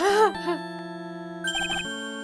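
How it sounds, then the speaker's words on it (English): A melodic phone ringtone plays in the Ace Attorney courtroom video game, a short run of bright synthesized notes over a held low tone, moderately loud and with no one speaking. "What kind of ringtone is that?"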